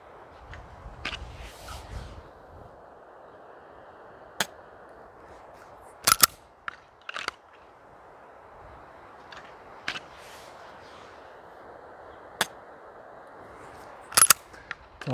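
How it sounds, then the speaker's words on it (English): SIG P365 or P320 pistol dry fired, with scattered sharp mechanical clicks of trigger and slide, some doubled, over a steady background hiss and no talk. "I'm just gonna do some dry fire here"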